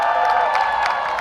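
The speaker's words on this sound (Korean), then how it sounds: "큰 박수 부탁드립니다, 여러분." A large crowd claps and cheers loudly and continuously at a presidential election rally in Yeouido, with a dense patter of hands over sustained tones.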